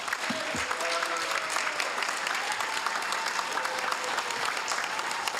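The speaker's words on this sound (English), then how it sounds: "Ladies and gentlemen, let's give Mo Kim Tong another big round of applause." At a Hayward city council meeting, the audience gives a poet laureate a steady round of applause that holds for over five seconds, with a brief voice heard near the start.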